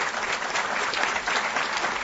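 Audience applause at a hospital donation panel event, a dense, steady wash of clapping from a seated crowd, sustained and even with no voices over it.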